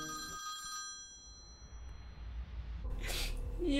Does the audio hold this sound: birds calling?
no